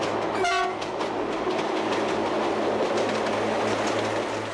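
A two-car diesel train on the Corsican railway between Bastia and Ajaccio sounds a brief horn, then rumbles steadily along the track with faint clicking wheels, close and continuous.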